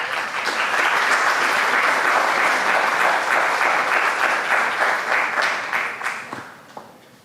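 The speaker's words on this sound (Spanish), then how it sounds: "Ahora recibimos también con un fuerte aplauso" An audience welcomes a speaker with loud, sustained applause, many hands clapping together at full strength before the sound tapers off toward the end.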